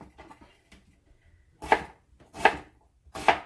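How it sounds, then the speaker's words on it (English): A knife cuts down through an onion on a board in three distinct, evenly spaced chops, each a crisp crunching thunk heard up close after a few quieter handling sounds. "I'll take the tip of my knife and cut 3/4 of the way through the onion a bunch of times"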